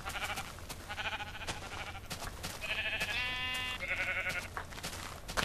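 Sheep in the Minecraft video game give several bleats one after another, with tonal wavering cries over a steady low background hum and no talking.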